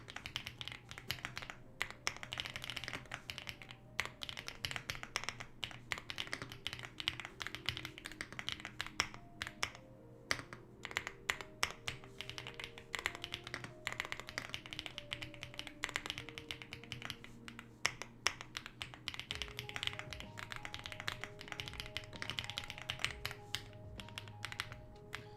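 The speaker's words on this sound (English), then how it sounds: "if I do a little bit of typing" Rapid, continuous typing on a computer keyboard while coding a text editor, crisp close key taps in an uneven rhythm over a soft steady hum, with no talking.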